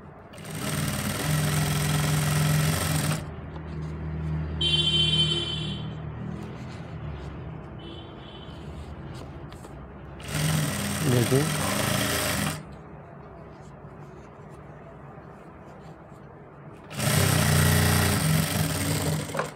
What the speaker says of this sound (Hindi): अब इसकी पाइपिंग के साथ में बिल्कुल नीचे हम सिलाई लगाएंगे।